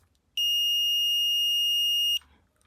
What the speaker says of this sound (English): you have like a beeping sound which goes like this.